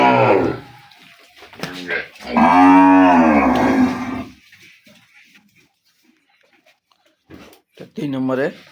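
Dairy cows at a cattle sale let out a long, loud, drawn-out moo close by, with shorter lowing calls and human voices before and after.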